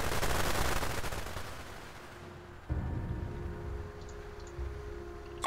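Gunfire in the strategy game Global Conflagration opens with a loud burst of shooting that fades, then a sharp single shot and lighter distant firing follow.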